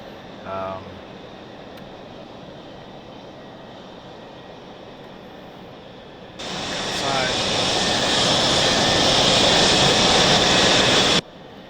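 A Mirage F1CE jet engine spools up during a cold start in the DCS flight simulator. A quiet stretch with brief speech gives way to a sudden loud, steady roaring whine that climbs and then holds before cutting off abruptly.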